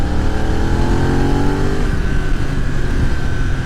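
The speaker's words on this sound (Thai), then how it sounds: "เป็นสไตล์แบบเครื่องยนต์ที่จุดระเบิด 270" A loud, close 2020 BMW F900R motorcycle engine with a 270-degree firing order revs and drones with a throaty, uneven pulse, its pitch sliding as it winds up and eases off.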